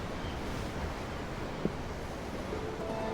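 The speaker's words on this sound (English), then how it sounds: "I'm looking at the ocean. The ocean? Yeah. The waves." Ocean waves from the Tales of Arise video game roll in as a steady, broad wash of surf with a faint wind-like hiss, fairly quiet and continuous, with no talk over it.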